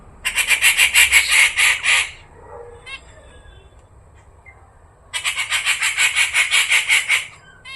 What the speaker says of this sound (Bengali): অন্য পাখিকে ডাকছে